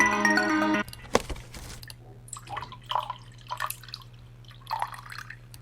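Sampled water drips used as a peeing sound in a glitched breakbeat production, heard as a few separate soft drip plinks spread apart after a short burst of music.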